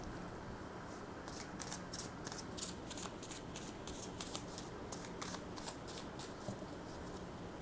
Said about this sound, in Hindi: फीलिंग्स के लिए कार्ड्स निकालती हूँ